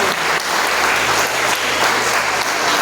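A church congregation applauds loudly for Jesus during a Portuguese sermon, a thick, continuous roar of many clapping hands that holds steady from start to finish.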